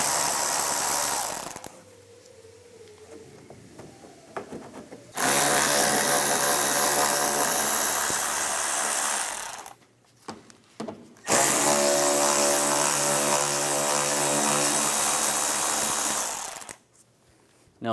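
A power tool with a 7mm socket whirs loudly in several long bursts, backing out headlight screws on a 2015-2019 Lincoln MKC, with quieter gaps and faint clicks and rattles between runs.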